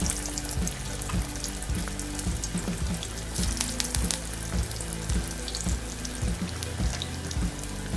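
Egg vadas fry steadily in hot oil over a medium flame, a dense continuous sizzle with crackling bubbles and occasional soft clinks from the pan, close and loud throughout.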